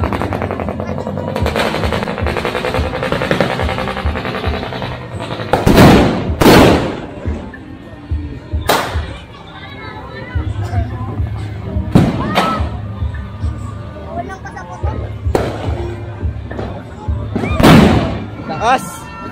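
Strings of Judas belt firecrackers bursting in rapid crackling runs, with several loud sharp bangs standing out, while people shout and talk excitedly nearby.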